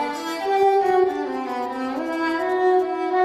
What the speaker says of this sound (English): because the Cobra cello is electric, we can take advantage of the plethora of sounds that have been available to electric guitar players for years.